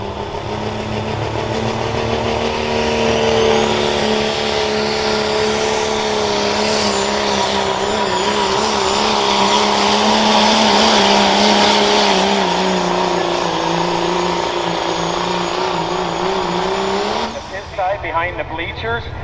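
A 2001 Dodge Ram pickup nicknamed Big Red roars at a county fair truck pull, its engine droning loud and sustained with rising pitch before cutting off near the end, with an announcer talking over it.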